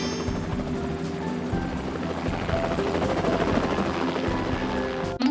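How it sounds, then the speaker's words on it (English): Cartoon helicopter readying for takeoff, a steady loud rotor drone with a rising whine, continuous for several seconds and ending in a sharp burst, alone without talk. "The helicopter is ready to take off."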